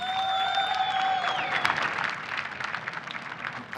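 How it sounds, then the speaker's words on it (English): Applause and crowd noise for Team Envyus after the Champion of Champions grand final against Fnatic, a dense broadband wash of clapping that holds steady, with sustained tones fading out early. "a round of applause for Team Envyus"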